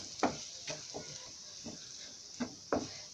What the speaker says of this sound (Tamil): இதை அப்படியே ஒரு 2 நிமிஷம் மட்டும் இதை வந்து நம்ம வதக்கிடலாங்க